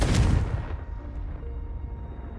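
The Confringo blasting spell in the Hogwarts Legacy video game goes off as a single loud, deep explosion that booms at once and then rumbles away into a fading tail.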